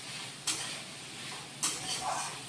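Bottle gourd greens being stir-fried in a pan, a steady soft sizzle with two sharp scraping stirs of the spatula, one near the start and one past the midpoint.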